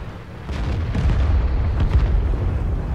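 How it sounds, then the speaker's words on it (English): Tank cannon fire in World of Tanks, from a high-tier Russian medium tank battle: a loud, dense low rumble with a few booming shot bursts layered through it, with no talking. "Again, I shoot him in the side again, he bounces again"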